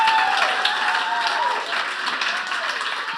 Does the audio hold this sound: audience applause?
yes